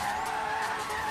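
A rear-wheel-drive Lamborghini drifts in Forza Horizon 3, with a sustained tire squeal and skid sitting over a steady engine tone for a brief, continuous stretch, close and fairly loud.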